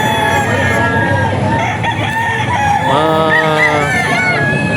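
Several gamecocks, stags and bull stags crowing and clucking at a rooster market in Bocaue, loud overlapping crows close by over a busy background, with faint voices mixed in.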